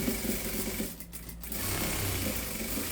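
Sewing machine running steadily and close while stitching a cloth doll, a continuous mechanical whir with a brief dip in the middle, no voices heard.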